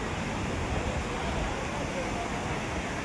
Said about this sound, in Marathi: हे बघा पूर्ण पाणी उडत आहे, पूर्ण बघा समोर पाणी फेकत आहे त्या धबधब्याचं